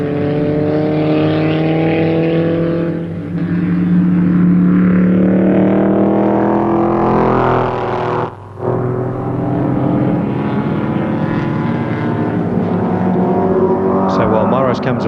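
Touring race cars in a 1973 South Pacific Touring Car Series round at Warwick Farm, including Holden Toranas and a large Ford GT, roar loudly past with engine pitch rising and falling, under continuous commentary.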